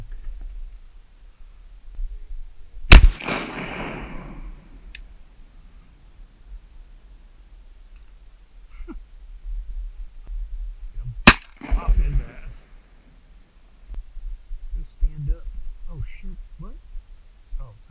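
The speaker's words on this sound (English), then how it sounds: "You were shooting something." Two loud, sharp shotgun blasts fired while duck hunting in North Florida waters, spaced about eight seconds apart, each trailing off with a brief echo; people talk in the quiet stretches between and after.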